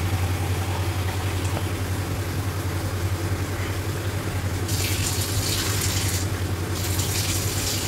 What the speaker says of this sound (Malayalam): ഇതിൽ വെള്ളം നിറച്ച് വെക്കാം.